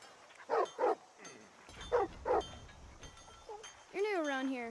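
Dog in Skyrim, modded with the NGVO list, gives two pairs of short, fairly close barks, then a drawn-out whimpering whine at the end, with faint background ambience between.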